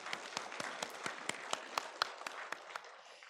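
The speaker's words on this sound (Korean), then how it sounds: "영광의 박수 올리겠습니다." A church congregation applauds during a year-end Sunday worship service, giving a quiet, steady run of evenly spaced claps that sounds fairly distant.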